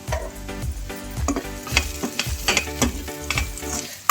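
Meal maker fried rice being mixed with spices in a pan, with repeated rhythmic scrapes and taps of a spoon against the pan over a steady sizzle, close up and without talking.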